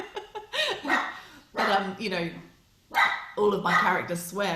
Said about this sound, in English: Sorry about the dogs going mad barking.